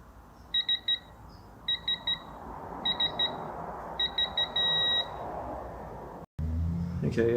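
A torque wrench set to 12 newton meters, used while fastening a Honda N-One CVT filter cover, gives four bursts of sharp, high electronic beeps. The last burst runs longer, and a clunk and some handling noise follow.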